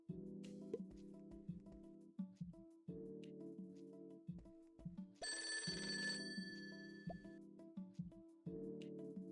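Telephone ringing in a horror video game, a bright electronic ring burst rising over a low, steady ambient drone and scattered soft knocks, all fairly quiet.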